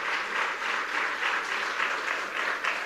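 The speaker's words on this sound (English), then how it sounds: "Give yourselves a round of applause." An audience at a conservative student conference in Washington, D.C. applauds steadily, the clapping from a large crowd blending into a continuous wash that holds at an even level.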